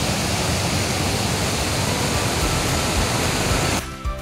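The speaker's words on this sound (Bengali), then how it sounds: "দেখুন ওদিক দিয়ে একটা ঝর্ণা এসে এই নদীর মধ্যে মিশেছে।" A waterfall stream pours into a mountain river at Shrikhola, a loud, dense and steady rush of water that fills the scene, then drops away suddenly near the end.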